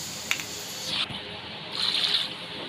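Water pours into a pressure cooker holding beef on a stove while making palak gosht, a steady splashing wash that swells louder near the end, with no talk.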